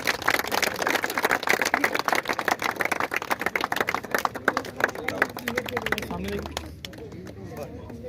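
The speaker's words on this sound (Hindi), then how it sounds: "उनको जावेद अनवर साहब जोरदार तालियां बजाइए" An audience claps at the opening of a cricket academy, a brisk spread of individual hand claps that trails off near the end, with voices talking over it.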